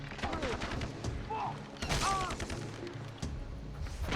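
Gunfire and explosions in the video game Far Cry 3, with scattered shots, thuds and a few whizzing effects over several seconds, and someone talking over them.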